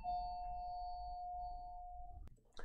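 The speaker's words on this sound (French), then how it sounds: "désolé, il y a la sonnette" A doorbell rings indoors as one long sustained chime, followed by a couple of faint knocks or clicks near the end.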